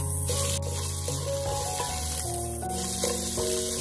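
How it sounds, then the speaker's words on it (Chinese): Pork belly stir-fried with chili and Sichuan peppercorns in a wok, a continuous close sizzle with scraping stirs and clinks of the utensil, with no talking. "五花肉炒香以后，再把辣椒和花椒倒下来翻炒"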